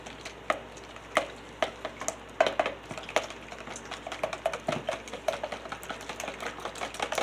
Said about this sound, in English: I'm going to get all this and mix it together